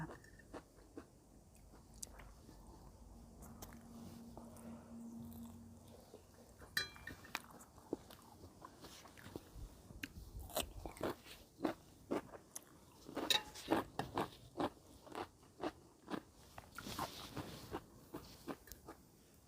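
Squid is eaten up close, with soft wet chewing that grows into a run of sharp bites and crunches and occasional light clinks of utensils, all faint and near.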